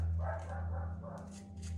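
Several dogs bark behind a house, short muffled yips and barks heard at a distance under a steady low hum.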